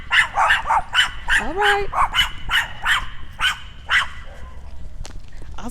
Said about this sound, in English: there'll be a couple dogs barking